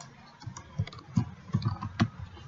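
Computer keyboard typing while entering data in an MS Excel spreadsheet, with a handful of soft, irregular key clicks and taps spread across a few seconds, fairly quiet and close with no speech.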